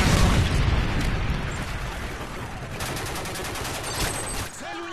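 Predator missile explosions in the Modern Warfare 3 video game: loud, heavy booms roll in at once, mixed with rattling gunfire, then fade into a lingering rumble.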